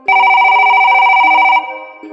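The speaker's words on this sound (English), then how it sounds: "a dead man's phone began to ring" A telephone rings loudly in steady repeated electronic trills for about a second and a half, then cuts off, leaving a faint lingering tone and quiet background.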